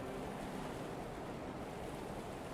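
Ocean waves surge and wash around a low-riding ship in the Stormworks game, a steady, full rushing roar with a wind-like hiss that holds constant throughout, no voices.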